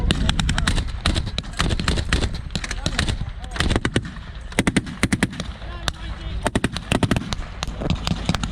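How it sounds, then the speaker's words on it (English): An M1919 machine gun mounted on a Jeep fires at a battle reenactment, loud close bursts and single cracks repeating over several seconds, with other distant gunfire, engine rumble and crowd noise around it. "I'm gonna start firing, guys."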